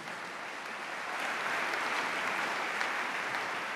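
A church congregation applauding during a sermon, a dense, steady wash of many hands clapping that swells slightly partway through, loud and continuous with no clear speech.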